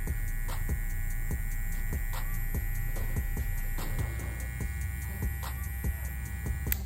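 An electric hair clipper with an all-metal housing runs steadily, a continuous low hum with a faint buzzing overtone and regular soft ticks, quiet and alone.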